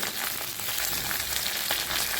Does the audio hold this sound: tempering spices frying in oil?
yes